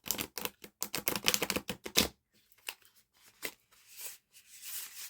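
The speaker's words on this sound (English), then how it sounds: "The Surrealist Tarot is a little bit too tall for me to riffle shuffle" Riffle shuffling of a tall Surrealist Tarot card deck: a dense burst of rapid crisp card flutter for about two seconds, followed by quieter scattered taps and soft rustling as the cards are squared.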